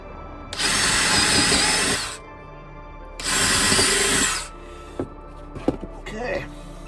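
Power drill boring small holes into a van floor, two loud sustained bursts of about a second or more each, followed by a few sharp knocks and handling clatter.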